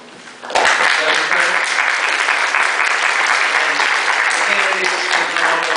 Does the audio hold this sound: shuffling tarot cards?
no